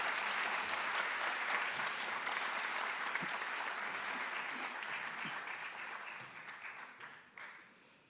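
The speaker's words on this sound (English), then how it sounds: "Let's give her one more round of applause." An audience claps for a dancer after her Arangetram, a loud, full round of applause that holds steady and then gradually thins and fades toward the end.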